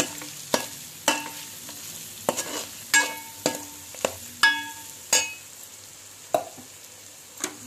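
A spoon scrapes and clinks against a pan as minced keema with masala powder is stirred, sharp knocks coming every half second or so over a soft frying sizzle.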